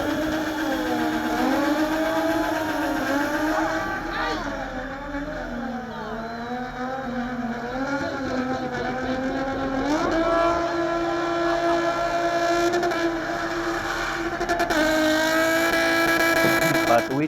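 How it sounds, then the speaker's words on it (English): A car with a BMW M20 engine is revved on the accelerator in a rhythmic pattern, its pitch sweeping up and down to play a tune. The engine stays loud and close throughout, with no pauses. "you can play that special tune with the accelerator"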